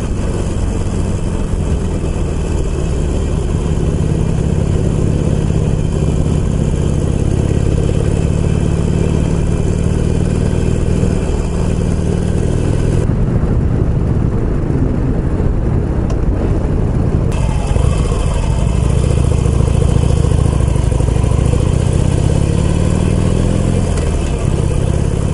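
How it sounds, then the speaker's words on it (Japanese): A motorcycle rides past on a touring road near Yagyu village, heard over the steady, close drone and wind rush of a rider's own motorcycle engine, with a brief revving swell mid-clip. "バイク行ったよ。"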